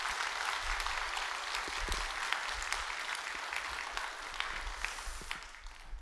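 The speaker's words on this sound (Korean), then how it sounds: "여러분 감사의 마음을 모아서 여러분 크게 박수 한번 주셔요" A church congregation at a Friday service claps together in sustained, dense applause that fills the room steadily from start to finish, with no voice rising above it.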